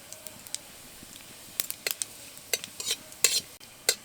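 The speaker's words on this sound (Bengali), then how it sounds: "এখন দিয়ে দেবো গোটা জিরে।" Chopped garlic and whole cumin seeds sizzle in hot oil, a quiet base of frying with scattered sharp crackles and pops that grow denser toward the end, close up and without speech.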